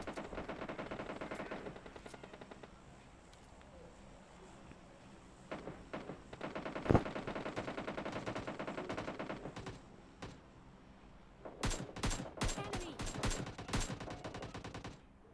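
Gunfire in the mobile battle royale game PUBG Mobile Lite, with faint, distant-sounding sustained bursts and spaced single shots, then a quick cluster of sharper shots near the end.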